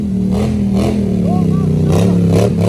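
A new Can-Am Renegade 1000 XXR ATV and a Polaris Sportsman XP 1000 4x4 idle and rev close by in a steady rumble with periodic surges, while people talk loudly over the engines.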